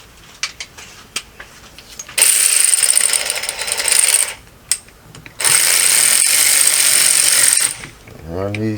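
A power tool drives long screws during work on a 2003 Polaris Sportsman 500 ATV, whirring loudly in two sustained bursts with clicks and taps between them and someone speaking briefly.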